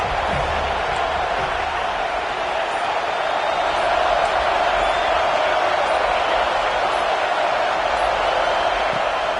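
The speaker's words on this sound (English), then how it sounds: "Listen to this crowd just shaking the girders of this place" A dense stadium crowd in a college football video game roars steadily, a broad sustained wall of cheering and noise with no clear breaks.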